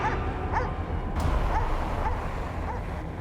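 A dog left unattended at a home barks and whimpers in short, repeated yelps and whines, moderately close, over a low rumbling background.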